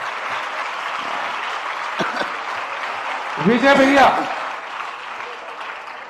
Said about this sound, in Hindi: जरा जोरदार तालियां बजा दीजिएगा।